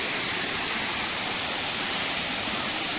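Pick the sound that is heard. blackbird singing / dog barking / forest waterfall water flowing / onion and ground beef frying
forest waterfall water flowing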